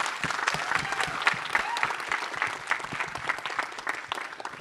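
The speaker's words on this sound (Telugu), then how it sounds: "she needs a big round of applause" An audience claps loudly and steadily at a film event, a dense wash of many hands that holds without a break, with only faint voices beneath.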